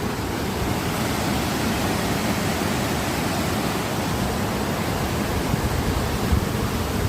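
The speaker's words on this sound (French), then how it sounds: "Nous voilà arrivés à la cascade." A touristy waterfall roaring as a steady, dense rush of falling water, loud and unbroken from start to finish with no voices.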